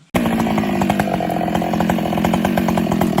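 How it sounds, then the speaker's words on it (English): A chainsaw bites into tree trunks during tree removal, its engine roaring loud and close, steady with rapid rhythmic chain chatter throughout. "The roar of the chainsaw cuts through the air, its blades sinking deep into each trunk"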